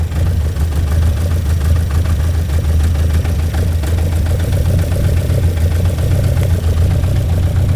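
A classic car engine idling in a workshop, a loud, steady low rumble with an even, continuous pulse and no voices over it.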